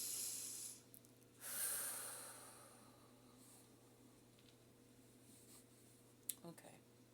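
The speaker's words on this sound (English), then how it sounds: "So, deep breaths in." Slow, deep breaths are drawn in and let out during a guided prayer session, two soft airy inhale-exhale swells close to the microphone in a quiet room, followed by faint rustles and a small tap.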